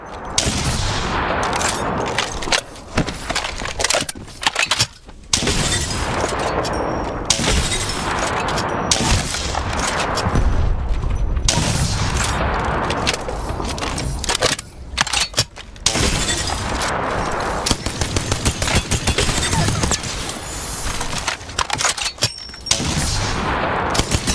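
Gunfire from Sentinel, Rampage and Thermite weapons in the Apex Legends video game: rapid bursts and single sharp shots with cracking impacts, continuing densely throughout amid game effects.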